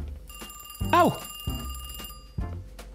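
A telephone rings inside a kiosk in the horror game The Kiosk during heavy rain, sounding as bright repeated electronic tones over a low rumble of rain, with a man's brief exclamation.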